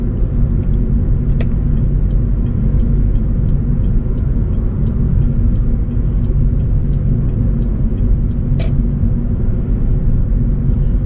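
Steady, close engine drone from a 1997 Acura CL with manual gearbox accelerating in third gear, a constant low rumble with a couple of brief clicks and no talking.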